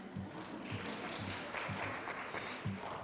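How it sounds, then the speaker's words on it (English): Scattered audience clapping at a college honor society induction ceremony, soft and somewhat distant, with a handful of distinct claps standing out over a light, steady patter. "You can keep clapping."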